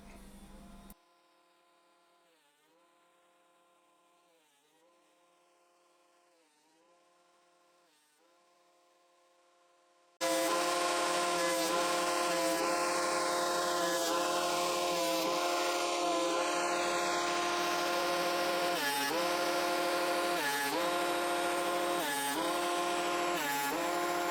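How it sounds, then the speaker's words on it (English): Planer cutting Sapele hardwood strips down in width, a loud continuous mechanical roar with a droning tonal hum that kicks in partway through after a quieter idling stretch. "I move back to the planer to reduce the Sapele strips to a width of 1/4 inch."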